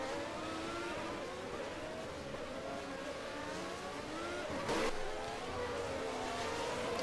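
Formula 1 cars race at the Australian GP in a racing video game, a steady high engine whine with layered gear-change sweeps from several cars, and one quick car rushing past near the end.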